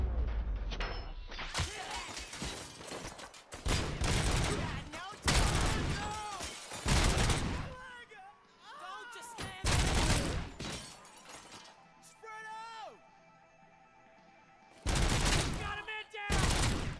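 Rapid gunfire fills a Robocop: Rogue City video game firefight, with loud, dense bursts of shots and crashes and brief quieter gaps between the volleys.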